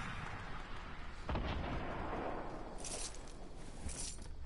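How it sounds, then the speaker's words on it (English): Bottle rocket explosions boom in a video game, a muffled burst followed by several softer pops over a low rumbling background. "Bottle rockets are the worst weapon in the game right now."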